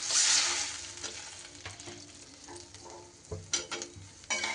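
Potatoes and eggplant being stirred in hot oil in a pan, giving a hissing fry with scattered scraping strokes that grow sharper and more frequent toward the end.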